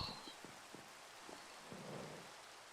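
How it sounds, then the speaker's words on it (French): Steady rain falls over the Minecraft map Monument Island, a continuous wash of patter with scattered soft thumps of drops, moderately loud and uninterrupted by any voice. "non mais il pleut"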